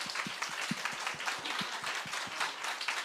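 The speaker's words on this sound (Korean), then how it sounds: "우리 한번 이쁘다고 박수" Applause at an evening church service, a small group clapping in a brisk, fairly even rhythm, moderately close and somewhat soft, with no voices over it.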